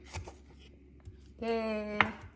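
A knife chops vegetables finely on a board for a home-cooked breakfast, a few soft, close taps, while a voice hums or speaks briefly near the end.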